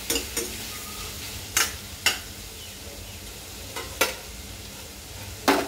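Tomatoes sauté in a pan under a steady low sizzle, while a ladle scrapes and clacks against the vessel's rim in several sharp, irregular strikes. The sound is close, with no voices.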